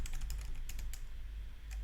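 A short burst of keyboard typing while entering Korean characters, several quick, close clicks with a brief pause before a final tap, against a quiet hum.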